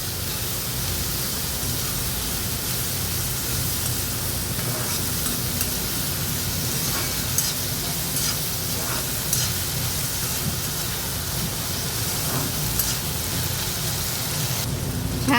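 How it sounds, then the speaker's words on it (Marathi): Ridge gourd cooked with moong dal and salt, sautéed in oil in a pan without onion or garlic: a continuous, dense sizzle with occasional faint stirring scrapes, steady and close, with no voices. "तेलावर छान परतून घेऊया."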